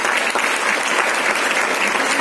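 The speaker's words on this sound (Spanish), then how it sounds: "Gracias, chicos. Un aplauso." Dense, steady audience applause at the Liga Endesa 2018-19 season presentation event, a loud continuous wash of many hands clapping with no break.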